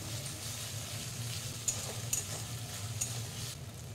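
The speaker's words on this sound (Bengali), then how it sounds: "আদা বাটাটি ভালোভাবে কষিয়ে নিতে হবে।" Ginger paste fries in oil in a pan as it is stirred, a soft continuous sizzle broken by a few sharp utensil scrapes and clicks against the metal, close by and without speech.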